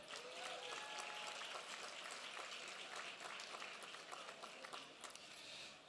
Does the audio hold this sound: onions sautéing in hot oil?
no